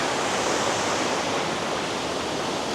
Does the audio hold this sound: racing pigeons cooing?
no